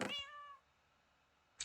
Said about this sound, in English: Oh, cat's still in there.